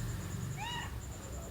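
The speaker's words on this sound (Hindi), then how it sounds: "पीछे से जो आवाज़ आ रही थी वो मेरी बिल्ली है, म्याऊं म्याऊं कर रही थी पीछे से" A house cat gives a single faint meow in the background, a short rising call heard once over a steady room hiss with a high electronic whine.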